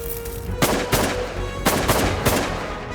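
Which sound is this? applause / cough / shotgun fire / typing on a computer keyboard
shotgun fire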